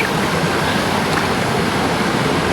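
Water flowing up from a deep underground source: a loud, continuous rushing gush, close and steady with no breaks, and no voices.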